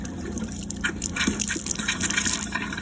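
Air sputters and gushes out of the water system of a McLouis 363 motorhome, giving irregular hissing, spitting bursts of air and water under a steady low pump hum, close up.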